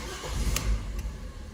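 Fiat Punto engine cranking and catching after a manifold pressure sensor replacement, a short low rumble of the starter and fire-up, near and moderately loud, then settling.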